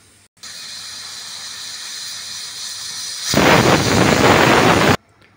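A pressure cooker on a stove vents steam, a steady hiss that suddenly swells into a loud, roaring whistle for about a second and a half before cutting off abruptly.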